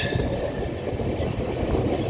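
22443 Kanpur Bandra superfast express running on track near Nagda Junction in Madhya Pradesh, a loud steady rumble of wheels and carriages with continuous rattling throughout, no voices.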